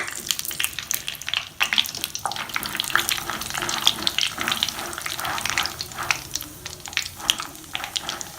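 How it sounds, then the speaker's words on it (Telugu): Peanuts deep frying in hot oil while cooking ivy gourd (tindora) 65, giving a steady close bubbling sizzle with scattered crackles and pops throughout, no talking. "ఇప్పుడు ఇదే నూనెలో వేరుశనగ గుళ్ళు కూడా వేసి డీప్ ఫ్రై చేసుకుందాము."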